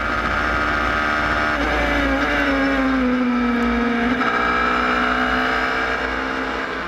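A Superlights race car at Zandvoort accelerating hard down the straight, its engine screaming loud and continuous with a rising pitch that dips and climbs again through gear changes, with no talking.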